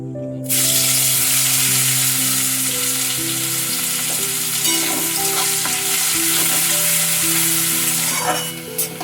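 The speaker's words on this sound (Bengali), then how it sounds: "এবার দিয়ে দেবো কুচিয়ে রাখা পেঁয়াজ।" Chopped onions frying in hot oil after a tempering of dried red chillies, a loud, steady broadband sizzle that jumps up at the start and continues close by without talk, with a faint background hum.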